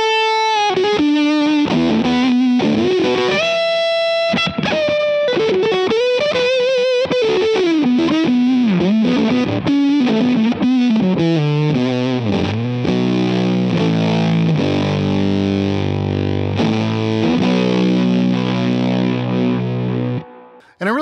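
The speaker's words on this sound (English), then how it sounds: "Now we're going to dive right in with a germanium side fuzz, kind of your classic fuzz tone." Electric guitar through a Kingtone Minifuzz V2 germanium fuzz pedal plays bending single-note lead lines that slide into thick fuzzy chords, loud and sustained, with no voices.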